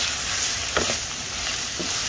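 Pork belly sautéing in a hot pan for a sticky pork dish gives a steady sizzling hiss throughout, with a couple of brief stirring scrapes near the middle and end.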